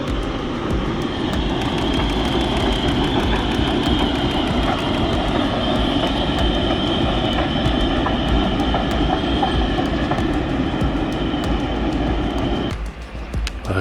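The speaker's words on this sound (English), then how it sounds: "We've got a lovely diesel service just pulling through. And lovely horn that was." A diesel train rumbles loudly through a station on a heritage railway on a sunny bank holiday, with a steady, close, heavy engine drone and wheel noise before it fades near the end.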